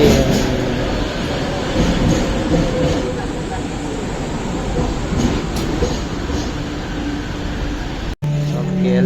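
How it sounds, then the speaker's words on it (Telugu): An LRT train runs toward KLCC in Kuala Lumpur, giving a loud, steady rumble and roar of rail travel that continues throughout, with a brief dropout near the end. "ఎల్ఆర్టీ ట్రైన్ వచ్చేసింది. సో ట్రైన్ వచ్చేసాక కేఎల్సీసీ వరకు నేను ట్రైన్ చేసుకున్నాను."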